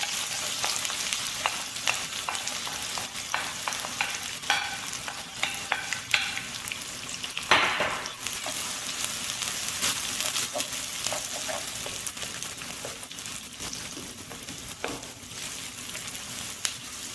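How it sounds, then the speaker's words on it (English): Two medium chopped onions sautéing in hot oil, a continuous bright crackling sizzle with scattered stirring clicks and scrapes, close and steady throughout, alone without speech. "Saute it until light brown"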